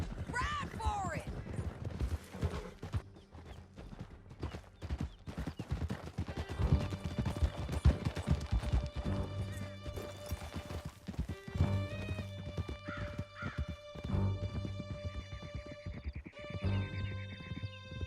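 Horses gallop through a canyon chase in the Western game Red Dead Redemption 2, their clip-clopping hoofbeats running steadily under game music, with speech and occasional whinnies mixed in.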